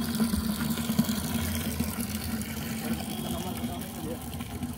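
Charcoal for a water tank filter is sieved and rinsed with water, giving a steady running-water wash with a faint engine- or pump-like hum underneath while a person talks over it.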